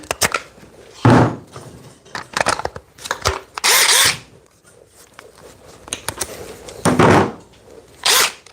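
DeWalt DCF860 impact driver fitted with a 5 amp hour PowerStack battery, sounding in several loud broadband bursts of about a second each, separated by quieter handling knocks and clatter, with no speech.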